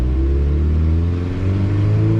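A truck engine pulls steadily as it accelerates on the road, a loud, close, continuous low rumble whose tone climbs slightly with speed, with no voices over it.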